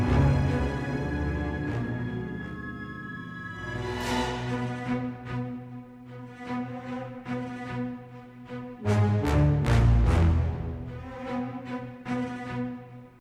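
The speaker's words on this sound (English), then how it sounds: "The megalodons have a certain song that starts playing" Megalodon spawn music from the video game Sea of Thieves plays alone: sustained tonal chords with a low drone, swelling in waves and punctuated by several sharp accented hits, growing loudest near the end.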